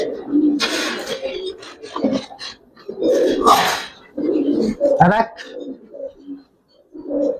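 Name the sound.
pigeons cooing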